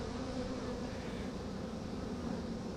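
Honey bees buzz around a hive in a steady, dense drone that fills the whole stretch, moderately faint, with no voices.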